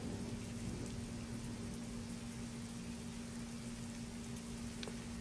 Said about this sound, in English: let's get in here out of the rain